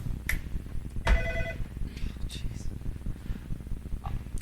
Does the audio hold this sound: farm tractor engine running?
no